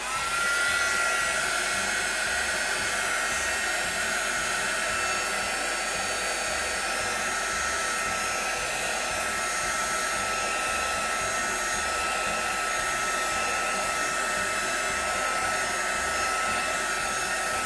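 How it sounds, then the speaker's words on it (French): A heat gun blows continuously as it dries Distress Oxide ink on a scrapbooking bookmark, a loud, steady, close whooshing drone with no pauses. "Je vais sécher au pistolet."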